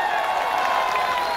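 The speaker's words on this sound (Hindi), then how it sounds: "एक बार जोरदार ताली बजा दो अपनी सेना के लिए।" A crowd at a public inauguration event in Matiala and Vikaspuri applauds for the army. The clapping and cheering form a continuous, fairly loud wash.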